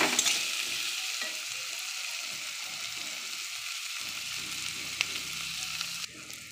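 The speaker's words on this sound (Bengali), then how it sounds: "আমার পেঁয়াজটা ভাজা হয়ে গেছে" Five chopped onions sizzle in a pan for mustard-onion fish curry, a constant bright hiss of frying broken by occasional scrapes of stirring, moderately close, with no talking.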